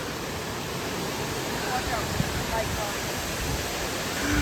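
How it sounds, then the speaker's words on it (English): Waterfall at Lake Serene, a steady broadband roar of falling water that runs evenly throughout with no break, loud and close, with no clear voices over the rush. "We're at the waterfall."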